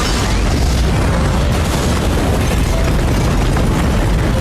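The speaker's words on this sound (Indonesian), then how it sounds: "Miguel yang sedang merencanakan semuanya pun langsung meledakkan sebuah bom di basement" A bomb detonates in a basement, a loud sustained roaring boom that fills the whole clip with dense rumbling, like a heavy blast in an enclosed space.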